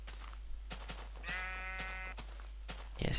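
A sheep in Minecraft gives a clear, drawn-out bleat lasting under a second, heard over a steady low game hum with faint clicks and taps around it.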